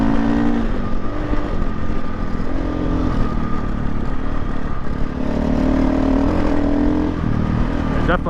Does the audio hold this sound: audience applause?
no